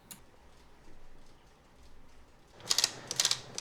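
Small brass gears in a vintage 1965 Hammond organ tick and clatter in quick mechanical bursts near the end, after a quiet stretch of faint shuffling.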